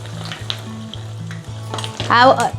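Chili fritters (mirchi bajji) fry in hot oil with a steady, close sizzle that swells into a louder bubbling burst near the end, alone without talk.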